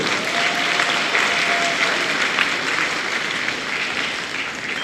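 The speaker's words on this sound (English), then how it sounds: "Ladies and gentlemen, one more round of applause for this large senior class and all their families for their hard work" An audience fills a high school gym with sustained, dense clapping at a Los Alamitos wrestling senior night against Newport Harbor. The applause stays loud and steady throughout without fading.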